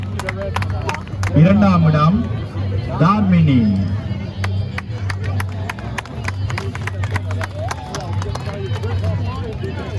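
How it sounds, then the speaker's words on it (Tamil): A crowd at a Tamil sports festival in Paris claps for prize winners, with scattered crisp claps and crowd murmur throughout while an announcer speaks over a loudspeaker. "சாருஜா இங்கே உங்கள் பலத்த கரகோஷம்"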